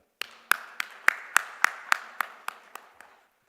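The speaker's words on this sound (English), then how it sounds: "let's give him a warm, warm round of applause as he joins us" Hand claps ring out at an awards event, about eleven sharp claps in an even rhythm that slowly fade, crisp and close with nothing else behind them.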